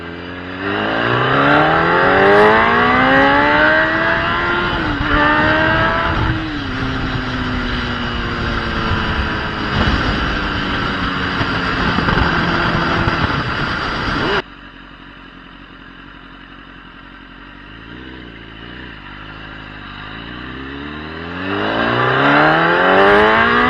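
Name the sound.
Kawasaki ZX10R motorcycle engine running and revving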